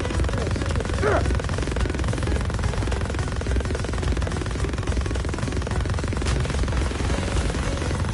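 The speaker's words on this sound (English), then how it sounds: "Oh, is that a news chopper?" A news helicopter in a video game gives a continuous, loud rotor drone that holds steady throughout, with small sharp game effects scattered over it.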